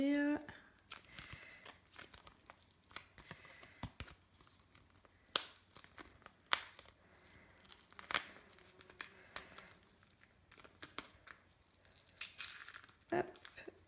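Packaging for a premium fine-point blade is opened, with crinkling plastic, short tearing rips and scattered sharp clicks and rustles, close and irregular.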